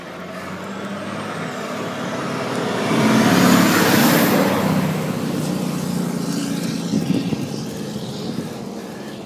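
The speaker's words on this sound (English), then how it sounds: "Just a couple of dump trucks." Dump trucks rolling past on a road during a bike climb, a heavy engine and tire roar that swells to a loud peak and fades, followed by a second rumbling pass.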